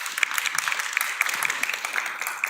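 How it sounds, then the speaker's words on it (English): Brief applause from an audience at a quantum technology competition grand final, a dense patter of claps at moderate level with some brighter individual claps standing out. "Let's applause."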